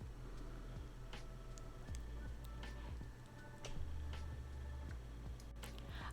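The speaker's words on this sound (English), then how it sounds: "Now whisk that cream cheese and cream together." A whisk beats cream cheese and cream together in a bowl for a smoked salmon and spinach roll filling, giving faint, quick rhythmic ticks and soft squishing with no talk.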